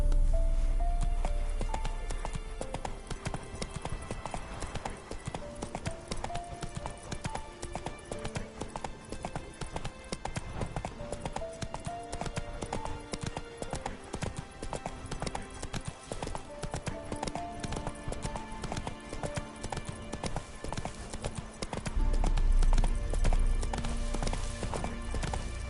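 Roach, the horse in The Witcher 3, clip-clops at a steady gallop, her hooves drumming in an even rhythm under a continuous game soundtrack for the whole stretch.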